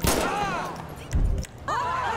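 Gunfire in GTA V with the LSPDFR police mod, a few sharp reports bursting out amid a busy game soundscape, with speech running alongside.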